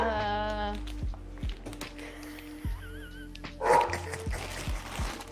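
A dog barks repeatedly in short, loud, close yips and bow-wows indoors, with some whimpering; people are heard talking between the barks.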